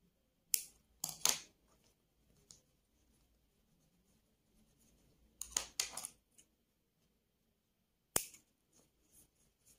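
Scissors snip through acrylic yarn after a crochet chain on a small amigurumi rabbit keychain, giving a few crisp close cuts in separate bursts with quiet pauses between.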